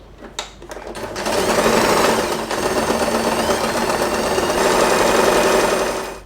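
A sewing machine stitches fabric for a bow with tails, running in a steady, loud, fast mechanical whir after a few short starting clicks, continuing alone without talk.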